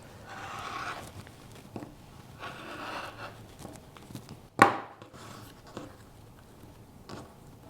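A rotary cutter slices through a pieced quilt block along a ruler edge in one sharp, close cut, surrounded by soft rustling and handling of fabric on the cutting mat.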